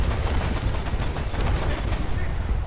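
Dense naval gunfire in a video game, with enemy AI gunners firing from ships off a French coast: a continuous rumbling barrage of overlapping shots, heavy and steady throughout.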